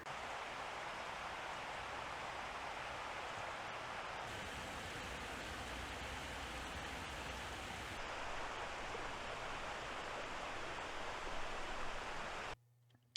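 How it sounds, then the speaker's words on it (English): Flowing river water in the video game Crimson Desert, a steady broad rush of running water without talk, holding constant before cutting off abruptly at the end. "So we see the water flowing very naturally"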